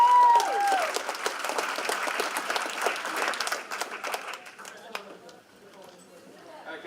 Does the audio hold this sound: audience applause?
yes